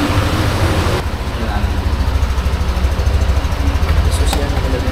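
A Yamaha NMAX V3 scooter engine idles steadily with a low, even throb, close and continuous, while a voice talks over it in the background.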